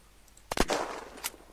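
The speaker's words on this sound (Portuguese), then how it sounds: "Ganda tiro, mano." A gunshot in the video game Unturned, a single quick sharp report followed by a short rumbling tail and a faint later crack, fairly quiet and alone.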